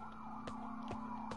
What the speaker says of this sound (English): I thought those police sirens were for real, not in the game